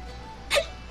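A character's single short, sharp hiccup in Tales of Xillia, a quick high yelp-like gulp over a faint background hum.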